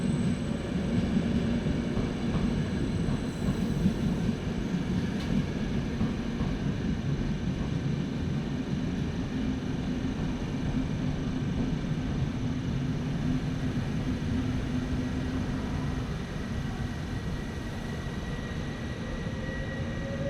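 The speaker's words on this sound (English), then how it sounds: "Tonight's train to Zagreb, now arriving at the station together with the night jet to Graz" Night train to Zagreb pulling into a station alongside a night jet to Graz, heard as a steady, unbroken low rumble and hiss that continues throughout.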